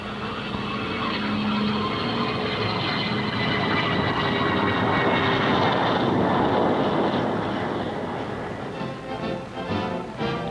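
A McDonnell F2H Banshee single-engine US Navy jet fighter from 1948 roars steadily overhead, a loud sustained engine rush with a broad whine that swells slightly and then starts to fade near the end.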